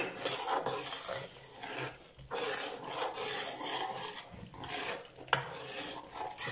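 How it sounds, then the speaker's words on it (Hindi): Spices stirred in a cooking pan with turmeric and black pepper, a steady scraping and rubbing of a utensil against the metal pan with soft clinks, close up and continuous with no talking. "तो अब इसे हम कर लेते हैं मिक्स।"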